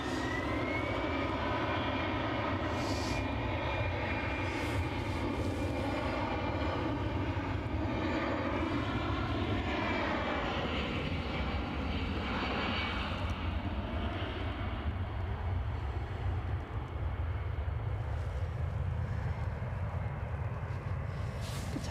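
Airliner engine roaring steadily at Edinburgh Airport as a plane takes off or lands, a loud continuous rumble with a rising whine that shifts in pitch partway through, filling the whole stretch, with faint talk briefly underneath.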